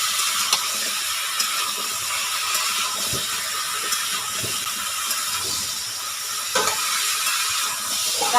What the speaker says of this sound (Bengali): আলু পেঁপে তো শুধু একটু ভাজা ভাজা করতে হবে